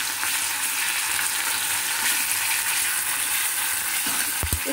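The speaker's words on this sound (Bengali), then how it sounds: "পেঁয়াজের সাথে আমি রসুনটাও দিয়ে দিলাম। এটা একটু ভাজা ভাজা হলে" Chopped onion and garlic fry in hot oil in a pan for a Punjabi tadka, giving a loud, steady, close sizzle throughout. A couple of soft knocks come near the end.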